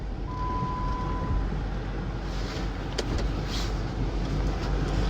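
A 2009 Jeep Commander with a 5.7 Hemi drives in low gear through a snowstorm. A loud, steady interior engine and road rumble fills the cabin, with a brief tone early on and a couple of soft knocks.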